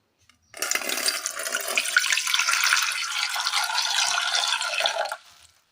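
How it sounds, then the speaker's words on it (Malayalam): Water pours into a cooking bowl for a Kerala sweet made with ash gourd, a loud continuous splashing gush lasting about five seconds, then stopping abruptly, with no talk. "ഒരു പാത്രത്തിൽ ഒരൽപ്പം വെള്ളം ഒഴിച്ചു കൊടുക്കാം"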